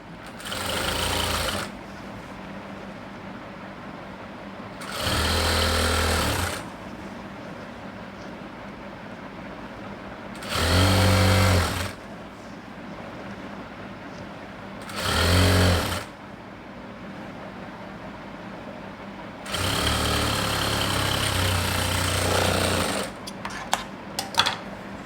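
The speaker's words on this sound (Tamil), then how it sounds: "ஆனால் உங்களுக்கு புரியறதுக்காக இப்போ நான் இதையும் தனியாக உங்களுக்கு தைக்கிறேன்." A sewing machine stitching the side joint of a chudi runs in five short bursts of rapid mechanical whirring, separated by quiet pauses, with faint handling noises near the end.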